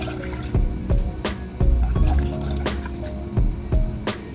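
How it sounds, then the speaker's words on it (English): Water poured into a heated vessel holding 200 grams of sugar for syrup, with splashy drips and several sharp pouring bursts close up, no voices. "Add 3 cups of water to it."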